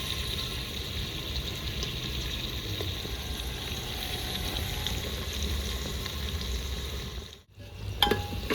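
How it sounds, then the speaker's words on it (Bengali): Onions fry in a pan for a village-style goat dish, giving a steady, even sizzle with faint stirring; the hiss cuts out briefly near the end. "বন্ধুরা পেঁয়াজ ভাজা হয়ে গেছে"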